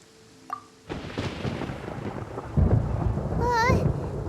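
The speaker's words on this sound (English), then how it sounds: "Paimon hears thunder!" Thunder rumbles in Genshin Impact, a low rolling crash that builds and swells over steady rain, followed by a rising tonal chime from the game.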